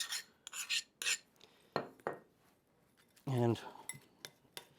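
A utensil scraping and clinking in a bowl while softened butter and brown sugar are mixed into a paste, a series of short, quiet rasping strokes with a voice speaking in between.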